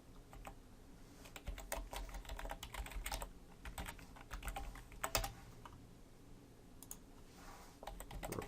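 Typing on a computer keyboard while coding, steady quiet clicks in irregular bursts with brief pauses, close and soft, with no talking.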